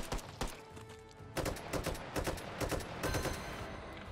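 Gunfire in the VR shooter Hot Dogs, Horseshoes & Hand Grenades, played on an HTC Vive, comes as sharp separate shots followed by rapid volleys of nearby fire in uneven bursts.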